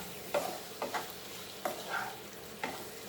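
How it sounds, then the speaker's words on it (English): Broken chili fries in a pan for paneer pasta, with a soft steady sizzle and a few distinct stirring scrapes spaced across the moment, quiet and close. "Fry this nicely."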